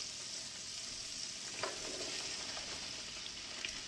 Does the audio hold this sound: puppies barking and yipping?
no